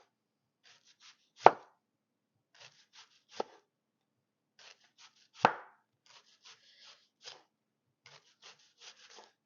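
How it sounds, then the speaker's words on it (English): A knife chops thin strips of onion on a board, sharp irregular taps and short bursts spread across several seconds, close and fairly quiet with no talking. "And then I'll chop up these strips just a little bit."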